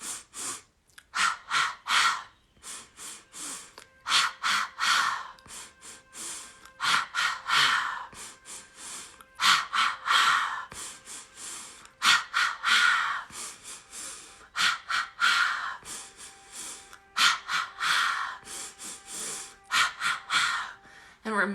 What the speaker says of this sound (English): you just have to breathe in 3 times through the nose, 3 times out through the mouth